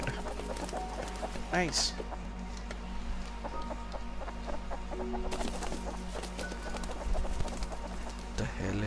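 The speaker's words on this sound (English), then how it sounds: "Ay, chicken." A chicken in the survival video game Rust gives a few clucks near the start, faint against steady game ambience, while a player speaks briefly.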